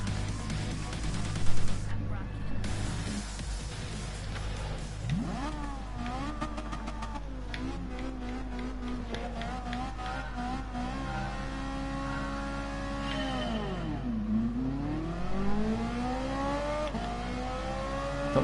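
Racing car engines revving at a race launch in the GT Sport video game, a rising and falling engine whine that climbs through the gears over steady background hum, with a voice talking over it.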